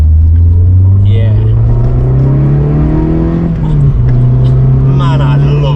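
A 1994 Renault Clio Williams engine drones loudly from inside the car, its pitch climbing steadily as it revs, then dipping and settling, with a voice talking over the engine noise.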